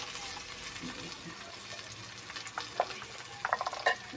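Ginger sautéing in a pan, a soft steady sizzle with a few sharp stirring clinks and scrapes near the end.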